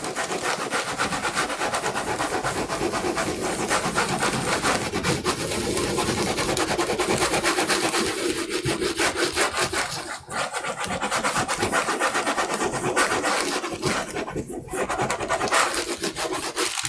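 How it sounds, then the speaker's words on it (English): A hand rubbing paper over an inked woodblock in Japanese printmaking, heel of the hand pressing hard, makes a steady, close, continuous rasping scrape that runs almost unbroken for the whole stretch, with only a brief dip partway through. "I was obviously rubbing too much with the heel of my hand here, so try and balance it a bit better"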